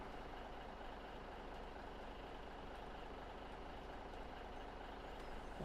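A truck unloading trailers in Farming Simulator 17 gives a steady, loud engine drone that runs unbroken from start to finish, with no talk over it.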